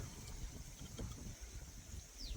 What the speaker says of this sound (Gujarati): પવન બહુ છે અમારે અહીંયા